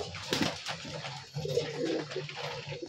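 A male yellow-eyed high flyer pigeon coos close by, a couple of soft, low throaty coos in quick succession, with no talking.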